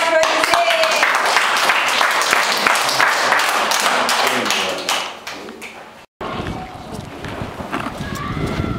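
Young kindergarten children clap together in a classroom, a loud dense burst of quick uneven claps with excited voices mixed in, breaking off abruptly and then resuming less strongly.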